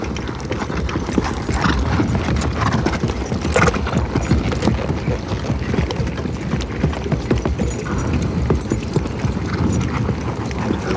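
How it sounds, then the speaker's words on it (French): Horse hooves clip-clop steadily and close as riders move through woodland near a battle artillery position, a dense rhythmic patter of many hoofbeats continuing throughout with no talk. "Je vois que vous n'avez pas l'habitude de monter à cheval."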